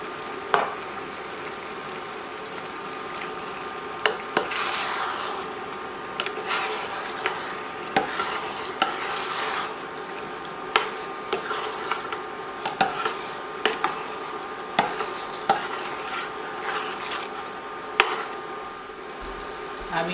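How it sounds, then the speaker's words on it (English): Canned mackerel going into a pot of Liberian gravy, heard as repeated metallic clanks and scrapes of a spoon on the can and pot over a low simmering hiss, with a voice talking at times. "I'll be adding the tinapa now, or mackerel."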